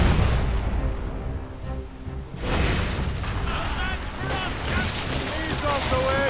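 Ship cannons fire in a naval battle in Assassin's Creed: Rogue, heavy booms rolling over rushing water and wind, with shouted commands and other voices throughout.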